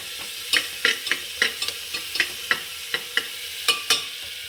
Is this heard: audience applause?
no